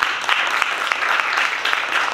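Church congregation clapping hands together at an evening Bible study, a brief burst of fairly loud, rhythmic group clapping with steady beats throughout.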